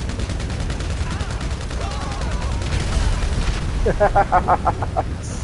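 Gunfire rattles through a GTA Online firefight, a steady stream of shots running throughout with a grenade blast and a rapid burst of louder close shots near the end.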